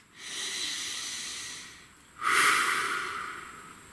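Slow, deliberate human breathing, close and quiet: a long soft exhale-like breath, a pause, then a sharper, stronger breath with an airy hiss, no speech.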